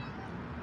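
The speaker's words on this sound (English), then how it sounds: "It's my cat." A house cat meows once in a single drawn-out, fairly quiet call, close by and alone.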